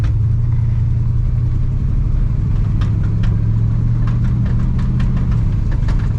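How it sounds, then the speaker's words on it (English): A 1980 Chevy C30 dually pickup, running for the first time in 26 years, pulls away with a steady low engine drone that rises and dips as it works through the gears, with faint rattles and ticks on top. "See if we can get it going fast enough to get it into second gear."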